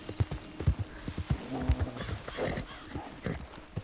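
Horse hooves clop in a steady walking rhythm in the Red Dead Redemption 2 video game, with a brief whinny partway through, fairly quiet and without talk over it.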